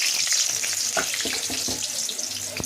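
Potatoes drop into hot oil in a pan, giving a rushing sizzle with several sharp crackling pops, close and fairly loud throughout.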